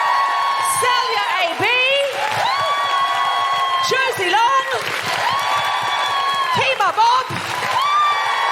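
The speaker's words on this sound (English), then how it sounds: "big round of applause for Alison Spittle?" A live comedy audience in Glasgow applauding and cheering, loud sustained clapping with whoops and shouts filling the room, while a voice speaks over the crowd.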